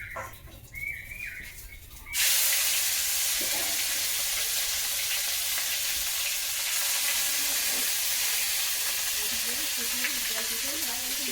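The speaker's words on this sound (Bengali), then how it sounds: "তেল গরম হয়ে গেছে তো জিরে দিয়ে দেবো জিরেটা ভাজা ভাজা হয়ে গেছে মশলা এখন সবই দিয়ে দেবো" Loud, steady sizzle of cumin seeds and spices dropped into hot oil, starting abruptly after a quieter moment with faint bird chirps, continuing close and unbroken.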